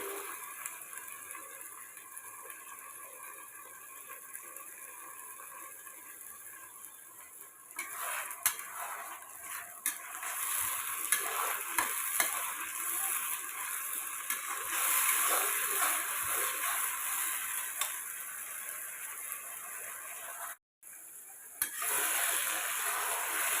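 A tomato and green chili paste sizzles in a hot pan while a market-style soya chunks curry is cooked. A steady frying hiss swells louder partway through, with occasional stirring clinks and no talking.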